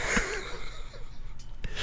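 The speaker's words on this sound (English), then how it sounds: "dramatic breath." A dramatic, exaggerated breath drawn by a person, a single wheezy inhale near the start that trails into quieter airy breathing and a few soft clicks, close and fairly faint.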